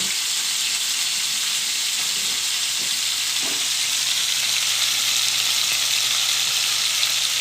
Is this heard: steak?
yes